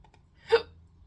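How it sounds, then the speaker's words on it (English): A single short hiccup, close and fairly quiet, alone against near silence. "I have hiccups."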